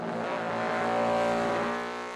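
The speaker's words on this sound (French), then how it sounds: "Cette moto, c'est la MV Agusta 500, 3 cylindres." A three-cylinder MV Agusta 500 racing motorcycle engine roars close by, a rich multi-toned howl that builds then eases slightly over a couple of seconds.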